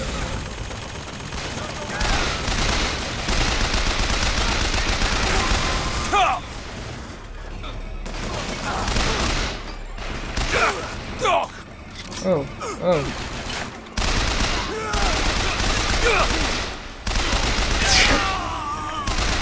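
Rapid bursts of gunfire crack and boom in Bioshock Infinite combat, loud and dense in repeated volleys with short lulls between, while someone talks over parts of the fighting.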